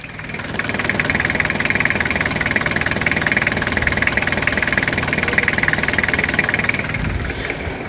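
Toyota Hilux SR5 2.8 diesel engine, a Brazilian-market truck from the 1992 to 2001 era, idling steadily with a rough, knocking diesel clatter, close and loud throughout and ending with a slight drop near the close.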